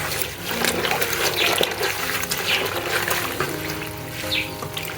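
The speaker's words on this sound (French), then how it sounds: "là, je suis en train de les laver" Dishes or produce being washed in water mixed with baking soda and vinegar, a steady running, trickling and splashing wash that carries on throughout, fairly close, with faint background hum.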